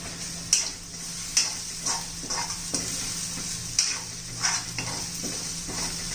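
Grated coconut and garlic fry in oil alongside green chilli in a pan, a steady soft sizzle broken by periodic sharp clinks and scrapes of a stirring spoon against the metal.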